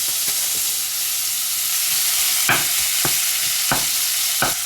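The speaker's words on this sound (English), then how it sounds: "I'll just cook this mince till it's nice and brown" Mince fries in a pan under a constant close sizzle, broken by several sharp scraping strokes as it is stirred.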